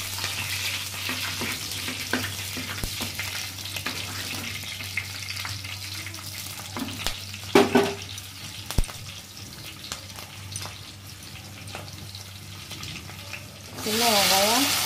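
Slit green chillies fry in a pan for a Tamil pomfret fish curry, a steady close sizzle running throughout with occasional stirring clicks and a brief louder burst near the end.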